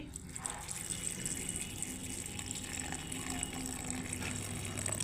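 A little water is poured into a mashed taro stolon mixture, giving a steady, fairly close splashing, running-water sound for several seconds with no clear talk.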